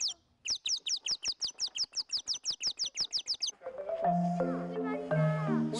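A person imitates a bird with a rapid series of about a dozen sharp, rhythmic whistled chirps, followed by children's voices and chatter in a forest play area.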